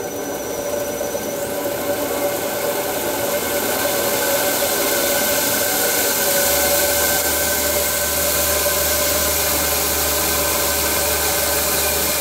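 A Bader B3 belt grinder driven through a VFD runs at low speed, giving a steady motor hum and whine with a high-pitched tonal squeal that holds continuously, loud and close, with no talking.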